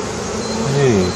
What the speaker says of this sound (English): Bees.